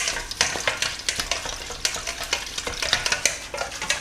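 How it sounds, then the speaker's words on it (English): Dashi stock and milk whisked in a bowl, quick irregular strokes clinking and swishing up close in rapid bursts for several seconds, with no one talking. "Whisk the stock."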